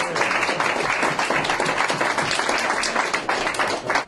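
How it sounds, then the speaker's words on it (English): Audience applause for an event committee at a plaque unveiling, steady dense clapping from a crowd filling the room, sustained throughout and stopping abruptly at the end. "give them a round of applause for it"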